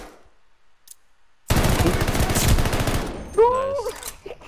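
Rapid automatic gunfire in a video game rattles loudly for about two seconds after a quiet lead-in, followed by a short vocal sound as it ends.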